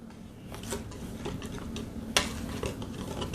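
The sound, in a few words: whisk attachment blending tea cake batter ingredients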